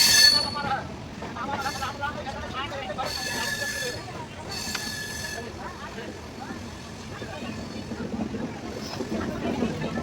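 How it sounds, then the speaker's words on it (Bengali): A late train running into Vijayawada railway station, with rail rumble and wheel noise under a voice talking nearby, and a few sharp metallic squeals and hissing bursts riding over the steady clatter. "একটু পরে ট্রেন ঢুকবে স্টেশনে"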